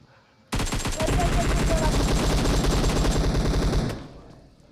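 An M4 rifle in PUBG Mobile fires a loud, rapid, sustained burst of automatic shots lasting about three and a half seconds, then fades into quiet.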